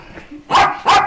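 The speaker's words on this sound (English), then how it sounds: "The guard dog." A guard dog barks twice from indoors, two sharp, fairly loud barks spaced about a third of a second apart, with a little faint background noise.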